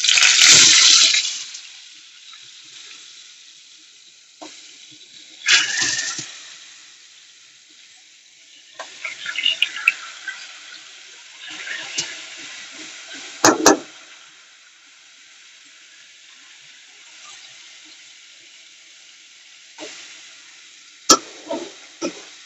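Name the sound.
poa fish frying in pan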